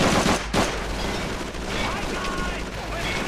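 Allied gunfire rattles continuously in Call of Duty 3 on PS2 during an SAS assault on a Nazi fuel depot, dense bursts of rifle and machine-gun fire over a low rumbling battle bed, with a voice speaking over it.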